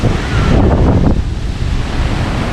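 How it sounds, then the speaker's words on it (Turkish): Steady gusty wind buffets the microphone with a low rumble on the beach at Bournemouth, while surf washes in the background; no voices. "hava biraz rüzgarlı arkadaşlar"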